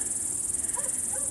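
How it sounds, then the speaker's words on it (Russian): Grasshoppers in the night countryside trill in a steady, high-pitched, rhythmic pulsing that continues without pause, with faint distant sounds underneath. "Кузнечики просто не перестают."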